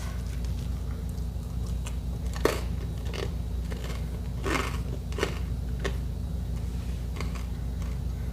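Close crunchy bites and chewing of crusty cranberry walnut sourdough bread: scattered crisp cracks and crackles at irregular intervals over a low background hum, no talking.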